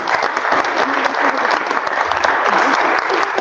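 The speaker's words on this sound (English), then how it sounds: "So let's have a round of applause for them." A town hall audience applauds a panel, with steady, dense clapping from many hands holding at an even loudness throughout.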